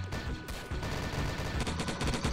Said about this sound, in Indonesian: main zombie attack lagi pakai machine gun.